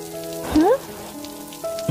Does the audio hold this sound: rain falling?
yes